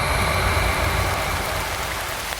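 Steady, dense rain pours down in the city, a loud unbroken hiss of drops on surfaces with no voices.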